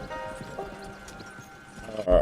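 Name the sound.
horse pulling a carriage, from video game Red Dead Redemption 2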